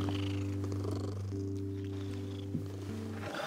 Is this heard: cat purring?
yes